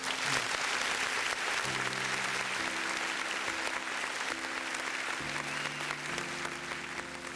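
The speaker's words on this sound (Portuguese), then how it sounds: "eu peço que você dê um aplauso ao Senhor pela sua vida" A congregation at a church teaching session bursts into sustained, loud applause, a dense clapping that fills the room steadily and fades slightly toward the end.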